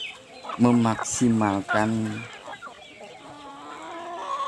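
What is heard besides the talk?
chickens clucking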